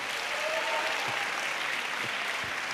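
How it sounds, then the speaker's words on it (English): A church congregation claps together in a steady, dense round of applause, loud and even throughout with no voices standing out. "Give them a clap again."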